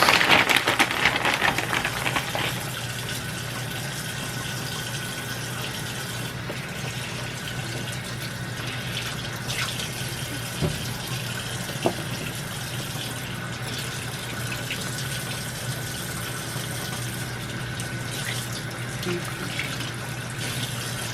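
Frozen catfish nuggets are rinsed in a bag under a running kitchen tap, giving a steady, close hiss of flowing water throughout. A brief splashy rustle comes at the start.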